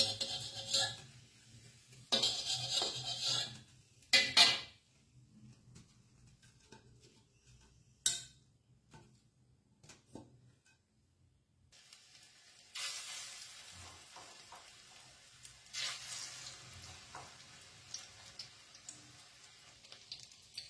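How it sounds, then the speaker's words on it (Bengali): Green banana fritters fry in oil in a pan over a low flame, giving a soft, quiet sizzle that swells in patches, broken by occasional clicks and taps. "এবারে সব বড়াগুলো আস্তে আস্তে আবার আগের মতন ভেজে নেব"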